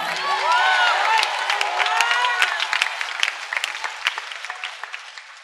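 A church congregation applauds and cheers during a sermon: dense, continuous clapping with raised voices and whoops, loud from the start and easing slightly toward the end.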